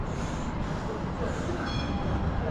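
A Sheffield Supertram passes along a city street at the bottom of West Street, giving a steady broadband rumble with faint high squeals from its wheels, loud and close throughout.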